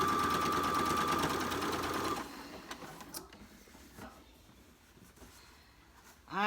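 A sewing machine top stitching a quilt runs steadily and close for about two seconds, then stops, leaving quiet handling noises and faint clicks.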